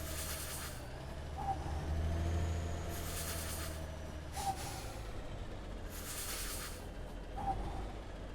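A heavy truck in Alaskan Truck Simulator idling with a low engine rumble, broken by three sharp hissing bursts of air brakes at regular intervals.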